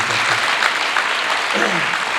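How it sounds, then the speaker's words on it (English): An audience at a 2022 matric awards ceremony claps steadily in a thick, sustained burst of applause, and a voice speaks briefly over it near the end. "Can we give these 2 districts a nice round of"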